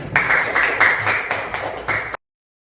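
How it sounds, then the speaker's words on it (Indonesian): A class of students claps hands together in short rhythmic bursts for about two seconds before stopping abruptly. "Berikan tepuk tangan buat kalian"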